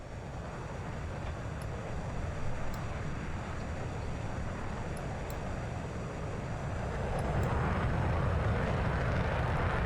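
A steady, loud, broadband engine roar of an aircraft taxiing on a runway in the DCS flight simulator holds throughout with little change, rising slightly toward the end.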